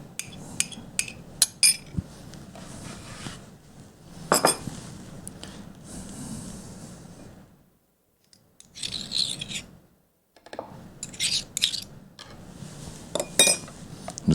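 A spoon scrapes and rubs around a pan while a cornstarch-thickened sauce for Mongolian beef is mixed, with metallic clinks and rasping strokes in irregular bursts and a short quiet gap midway.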